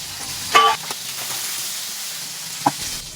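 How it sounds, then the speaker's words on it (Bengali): Tengra fish frying in a pan, a soft continuous sizzle close by, broken by a couple of brief sharper clinks or spatters. "বন্ধুরা আমি সব মাছগুলো দিয়ে দিলাম। এখন আমি লাল লাল করে ভেজে নিব।"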